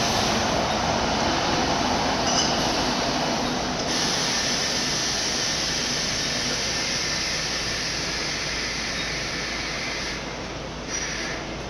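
A Brisbane metro train runs through a tunnel below Boggo Road station, giving a loud, steady broadband roar that stays level for about ten seconds and eases slightly toward the end, with no voices.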